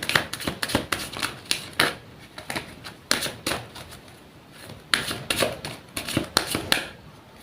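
Tarot cards shuffled by hand in quick bursts of crisp riffling clicks and slaps, close and fairly loud, with short pauses between rounds and no talking.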